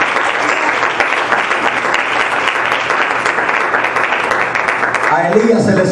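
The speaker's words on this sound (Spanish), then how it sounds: "Denle ese aplauso a la gloria de Dios en esta tarde" Congregation in a church breaking into loud, sustained applause that fills the room evenly for several seconds, with voices mixed in near the end.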